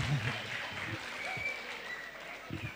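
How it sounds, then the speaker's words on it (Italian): Applause from a school audience at a green school event, fainter and thinning, with whistles and scattered voices heard over the clapping. "fatevi un bel applauso, uno di quelli seri"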